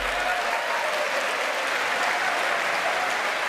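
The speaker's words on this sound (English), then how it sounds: "Roaring applause from both sides of the aisle." Dense, steady applause fills a congressional chamber during a State of the Union address, loud and continuous throughout with no voices standing out.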